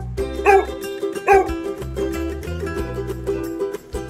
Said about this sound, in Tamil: இ, நாய்.